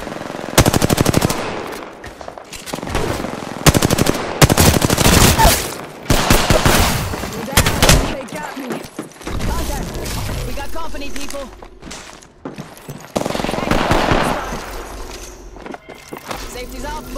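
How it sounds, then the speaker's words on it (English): Apex Legends battle-royale gunfire: loud, close bursts of rapid automatic fire broken by short pauses, with scattered shots and clatter while a voice talks over the action. "Enemies are shooting at me."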